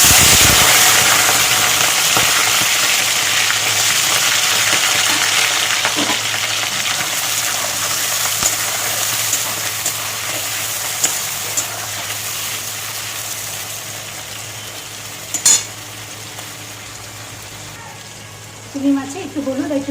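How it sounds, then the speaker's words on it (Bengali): Prawns frying in hot oil in a wok, a loud steady hiss and crackle that fills the whole stretch, with a few clinks and stirring knocks toward the end. "কড়াইতে তেল দিয়ে দিয়েছি, তেল গরম হয়ে গেছে। এবার চিংড়ি মাছগুলো ভেজে নেব।"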